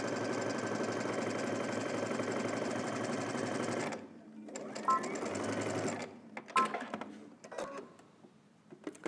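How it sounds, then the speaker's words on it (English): A sewing machine stitching a robe sleeve across the shoulder seam, a steady close mechanical whir for about four seconds, then stopping, followed by soft handling clicks and rustles. "let's head over to the machine and we're going to stitch all the way across, starting on one end, across through the shoulder seam"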